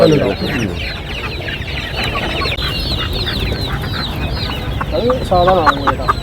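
Native country chickens and roosters at a busy poultry market, a dense chorus of close, overlapping clucks and squawks with occasional crowing, under market chatter.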